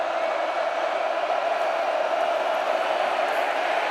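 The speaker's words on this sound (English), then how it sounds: "This crowd goes 0 to 100 before every snap." A packed college football stadium crowd in Lincoln, Nebraska roars in a continuous, dense wall of cheering before a snap, loud and unbroken with no clear talk above it.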